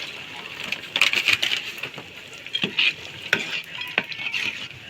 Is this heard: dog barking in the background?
no